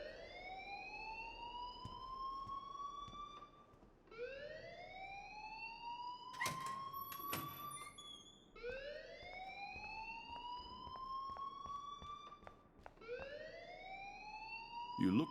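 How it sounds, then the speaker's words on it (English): A fire alarm in the Life is Strange video game sounds in repeated rising electronic sweeps, each a few seconds long, with brief sharp clanks and clatter in between, fairly near and steady. "please turn off that alarm since that's your job"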